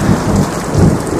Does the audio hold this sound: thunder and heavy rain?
yes